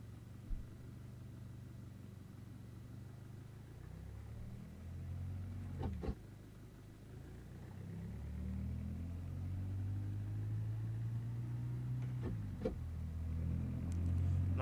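Car engine in the BeamNG.drive driving game on a river highway, a low steady rumble that rises and falls in pitch as the car accelerates and shifts, faint and continuous with two brief sharp clicks.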